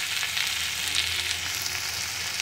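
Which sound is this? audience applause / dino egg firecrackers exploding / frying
frying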